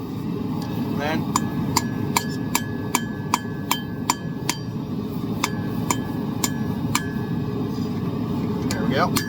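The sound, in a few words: hammering metal while forging a spoon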